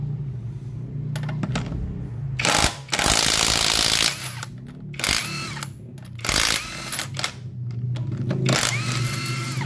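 A DeWalt XR 18V cordless impact wrench removes wheel nuts from a tyre, firing in several loud rattling hammering bursts separated by short pauses, with some background noise in between.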